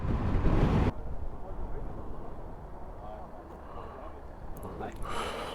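Cold wind gusting across a ferry port on a motorcycle tour of Norway, a loud rush of microphone buffeting at first, then a steady low blustery roar continuing alone.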